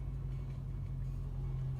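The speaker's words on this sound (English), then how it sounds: "what you're hearing is just the tires turning on the epoxy floor" Car tires rolling on a high-polish epoxy floor under a Mercedes E55 AMG, a faint steady low rumble and hum with no distinct events, quiet and continuous.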